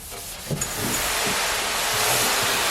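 Steady abrasive scrubbing on the fender of a Mercedes W109 being prepped for epoxy primer, a broadband hissing rub that grows slightly louder and continues without pause, with a few brief knocks near the start.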